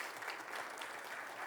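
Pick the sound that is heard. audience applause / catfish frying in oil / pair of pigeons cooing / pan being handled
audience applause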